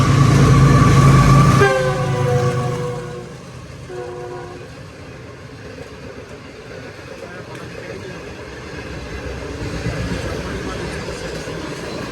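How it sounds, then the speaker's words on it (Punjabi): The Tezgam Express rumbles past loudly at first on the Okara to Lahore line in Pakistan, then sounds two long horn blasts, a sustained one followed by a shorter one, as the rolling noise fades into a steady background. "ਲਓ ਜੀ ਦੂਸਰੀ ਟ੍ਰੇਨ ਚੈੱਕ ਕਰੋ।"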